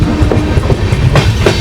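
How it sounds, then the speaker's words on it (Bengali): Puri Gandhidham weekly SF Express train slowing on approach to a station, with a close, loud, continuous rumble and rhythmic clickety-clack of wheels over rail joints. "ট্রেন স্লো করেছে"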